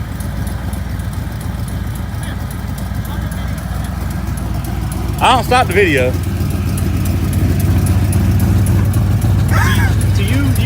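A Cummins diesel truck engine rumbles loud and close in a burnout box, a steady low drone that rises slightly later on. Someone speaks briefly over it.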